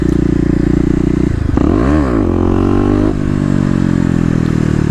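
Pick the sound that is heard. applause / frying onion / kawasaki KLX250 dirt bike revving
kawasaki KLX250 dirt bike revving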